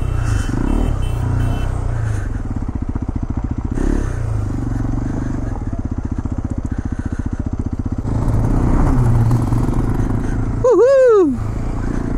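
A Hero XPulse 210 motorcycle rides along with a steady engine drone and rhythmic mechanical clatter that swells and eases, close and loud, with a brief sharp whooping sound near the end.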